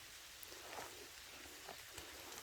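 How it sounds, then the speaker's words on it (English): Rain falls at Fisherman's Camp in San Mateo Canyon, a steady, faint hiss with scattered soft drops tapping nearby, continuous and even throughout, no voices. "listen to the rain here at Fisherman's Camp"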